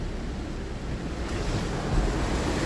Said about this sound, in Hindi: और सभी नदी नाले उफान पे हैं भाई, बहुत ही भयानक वाले, और बारिश लगी हुई है आप देख सकते हो भाई।